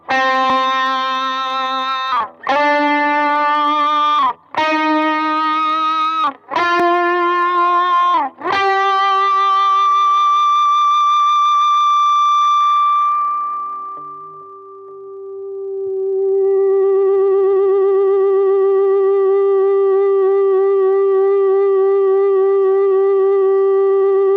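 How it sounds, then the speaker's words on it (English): Distorted electric guitar notes on a Stratocaster with a sustainer are picked several times, then a single note sustains on and on, fading briefly before swelling back with slow wavering. "If I were to put some distortion or overdrive on that and then kick in the sustainer"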